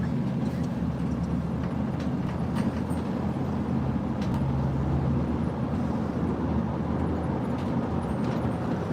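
A car driving along a road, heard from inside as a steady low rumble of engine and tire noise that runs continuously without change, with some talking from within the car.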